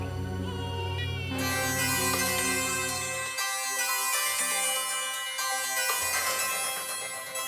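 A bright electronic phone ringtone melody plays loudly and continuously, its tones shifting in short repeating phrases with no voices over it.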